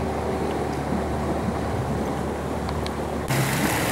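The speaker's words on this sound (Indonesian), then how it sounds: "ini belakang ini air bergerak efek dari baling-baling mesin Enduro Yamaha" Outboard boat with a Yamaha Enduro engine running on a river heading toward the coast, its propeller churning water in a steady broadband wash with a droning motor, growing louder and rougher near the end.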